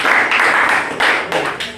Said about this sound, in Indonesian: Aplaus dulu buat Akil.